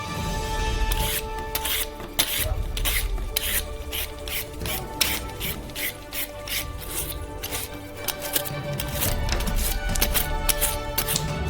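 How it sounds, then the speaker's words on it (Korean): Carrots being peeled with a vegetable peeler over a basin, a steady run of quick rasping scrapes repeating close up, with no talk. "대야를 가져다가 야채 필러로 당근 껍질을 벗겨요."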